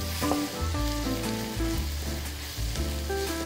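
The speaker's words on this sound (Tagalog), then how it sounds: "So, start natin with the garlic. Basta brown the garlic." Garlic browning in a pan gives off a steady, close sizzle that runs the whole time, with melodic tonal backing layered over it.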